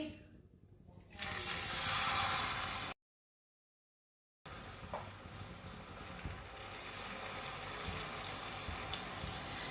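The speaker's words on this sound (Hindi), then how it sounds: "थोड़ा सा पानी डालेंगे।" Water pours steadily into a pan holding semolina and sugar for halwa, with a rushing, splashing sound, stops briefly, then continues as a softer running flow.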